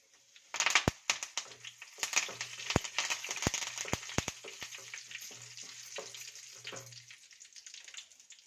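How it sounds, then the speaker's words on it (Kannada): Cumin and mustard seeds with curry leaves sizzle and splutter in hot oil, giving steady close frying hiss broken by sharp irregular pops and crackles, with no talking. "ಜೀರಿಗೆ, ಸಾಸಿವೆ ಹಿಂಗೆಲ್ಲ ಸಿಡಿಯೋ ತಗೋಣ ವೆಯ್ಟ್ ಮಾಡ್ಬೇಕು"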